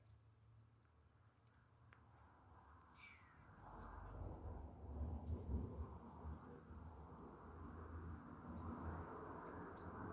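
Early morning birds singing in a feeding tree, with high chirps and calls over a steady insect trill, and a low rumbling swell from a passing vehicle in the middle.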